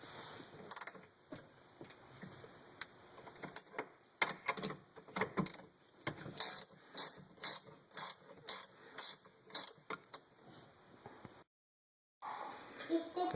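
Metric 10 mm wrench working factory module bolts beside a car battery, giving a run of sharp, evenly spaced ratcheting clicks in bursts, close and fairly quiet, with a brief silent gap near the end.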